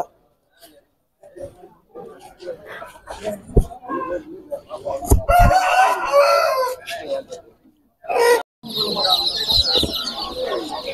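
Chickens and chicks, including coloured chicks, at a busy poultry market, clucking and a rooster crowing in short bursts, fairly close, mixed with someone talking and market chatter.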